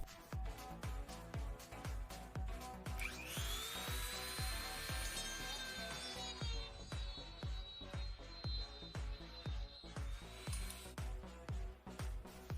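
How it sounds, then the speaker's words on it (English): A ring is sawn off a wooden dowel with its screw removed, a steady rhythmic rasping saw stroke repeating close up, with a brief high whining squeal partway through. "we take a dowel, remove the screw and cut a ring off of it"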